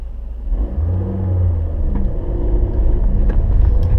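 A manual stick-shift car pulls away in first gear, its engine rumbling low and rising steadily as it accelerates, loud and close with no talking.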